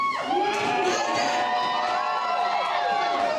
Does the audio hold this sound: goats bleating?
no